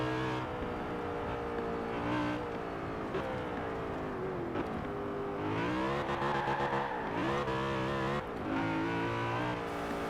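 A BMW M3 GTR racing car in Forza Horizon 4, its supercharged engine revving loudly and continuously through rising and falling gear changes, with a restrained supercharger whine and occasional tire squeal.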